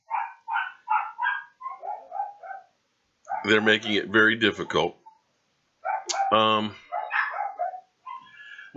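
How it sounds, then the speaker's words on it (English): Dogs bark in a quick run of repeated bursts, then a person talks while a few more barks break through in the background. "I just wish that I could get the dogs to stop barking"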